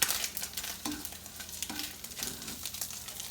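Chicken browning in a frying pan for an omelette gives a steady close sizzle, with a few soft scrapes and stirring clicks of a utensil against the pan.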